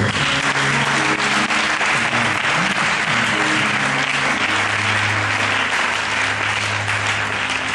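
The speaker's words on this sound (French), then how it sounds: "Est-ce qu'on peut acclamer le Seigneur? Non, non, acclamons le plus fort." A church congregation applauds the Lord in a sustained, loud burst of clapping that fills the room evenly, with low hum or music tones underneath and no clear speech.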